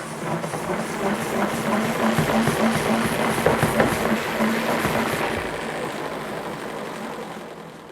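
A salad spinner whirling wet spinach, giving a steady loud rotational whir with a rattling hum that holds for several seconds, then eases off slightly toward the end.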